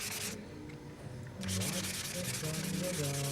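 Silver-coated aircraft parts on a Windy U Master 893 are sanded by hand outdoors in rapid rubbing strokes, close and steady, with a short quieter pause before the scraping resumes more strongly.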